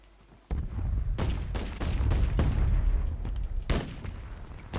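Sniper gunfire in a battle royale video game: a string of loud, sharp shots cracking out at irregular intervals over a dense rumbling battle backdrop, one heavy report near the start and another burst toward the end.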